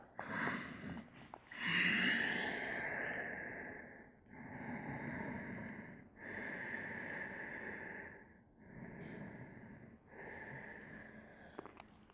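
Slow deep breathing during a yoga class, several long drawn inhales and exhales in a steady rhythm, soft and close, with a sniff near the start.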